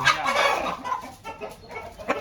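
A chicken clucks close by in a short burst of farmyard calls that fades slightly toward the end.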